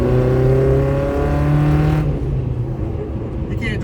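A Suzuki Samurai engine revs while driving, a rough, rowdy drone with a steady pitch that cuts off about halfway, leaving quieter road and driving noise.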